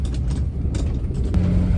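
A 1958 Mercedes 219 Ponton runs along the road with a low, steady engine hum and road noise, fairly quiet and unbroken, with a brief light knock near the end.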